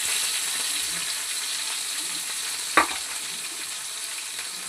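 Onions and green chillies frying in very hot oil, with a steady hiss of sizzling and a single sharp scrape or clatter partway through, close and even in level, with no talking.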